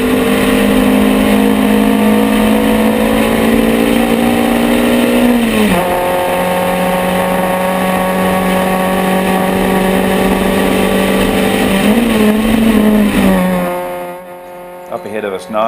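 Engine of a race car during a circuit race, heard from onboard as a loud continuous drone that holds steady pitch, dips briefly with gear changes around midway and near the end, then fades out.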